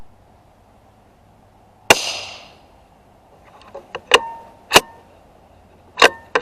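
Sharp, close rifle cracks from a Lithgow LA1 firing 17 HMR Winchester rounds, roughly five shots spaced irregularly over several seconds, each a sudden loud bang with a short decay, and quiet between.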